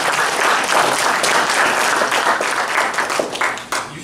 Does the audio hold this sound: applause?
yes